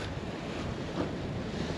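Blustery wind and rough waves at sea in bad weather off Nevis and Saint Kitts, a steady dense roar of gusts and surf buffeting the microphone without a break.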